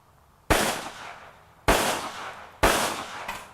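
A Masterpiece Arms Mini handgun fires three loud, sharp reports about a second apart at an outdoor range with a berm, each ringing out in a decaying echo, the last followed by a quick extra shot.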